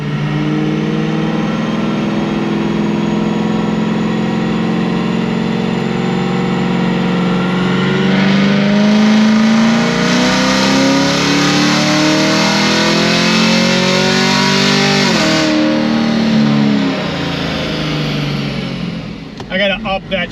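A car on pump gas with a 22% ethanol blend and a 10-speed transmission is driven hard in a pull. Its loud, close engine drone climbs steadily in pitch as it revs, then cuts off abruptly near the end.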